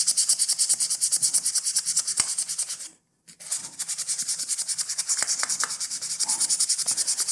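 A gun slide is wet sanded by hand, a rapid rhythmic scratchy rasp of steady back-and-forth strokes, close up, with one brief pause midway.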